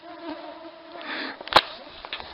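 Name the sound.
swarm of mosquitoes buzzing outdoors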